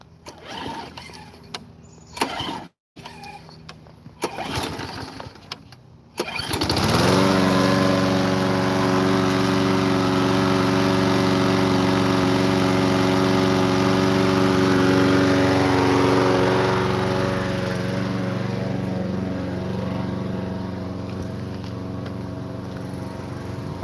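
A few seconds of clattering and pulling give way to a lawn mower engine under repair catching and running loud and steady close by, holding a constant hum with a slight drop near the end.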